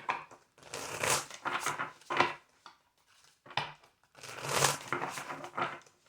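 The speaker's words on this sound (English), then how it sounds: "Two more shuffles." Bursts of crisp tarot card riffling and shuffling, several rounds separated by brief pauses, close and clear with no talking.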